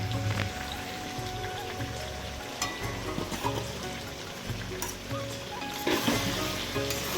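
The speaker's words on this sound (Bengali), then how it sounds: "এখন মশলাটা দিয়ে একটু কষিয়ে নেব তেল ছেড়ে আসা পর্যন্ত।" Spices of cumin, ginger, garlic, dried chilli and Kashmiri red chilli frying in oil for a mutton curry, a steady close crackling sizzle like rain with occasional louder spatters and stirring clicks, no talking.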